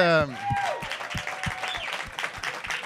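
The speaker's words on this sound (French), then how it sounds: "commencer à applaudir tout de suite" A studio audience applauds and cheers as a comedian walks on, a continuous wash of clapping at moderate volume, with an announcer's voice and music ringing out at the start.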